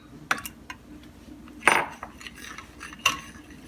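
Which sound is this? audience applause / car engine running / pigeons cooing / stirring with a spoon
stirring with a spoon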